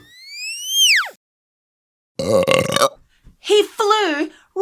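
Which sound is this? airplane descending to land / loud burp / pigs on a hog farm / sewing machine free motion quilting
loud burp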